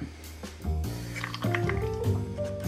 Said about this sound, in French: Et je mets les 8 centilitres de crème.